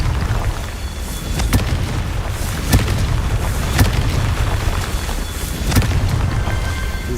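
Confringo blasting spell explosions in Hogwarts Legacy, a series of sharp loud booms at irregular intervals over a constant low rumbling game soundscape.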